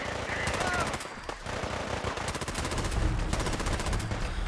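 Rapid automatic gunfire from a modded Fallout 4 settlement battle rattles almost nonstop at a loud, close level, with dense bursts stacking over a steady wash of combat noise.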